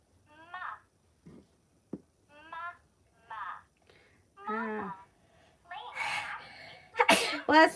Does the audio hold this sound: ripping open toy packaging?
no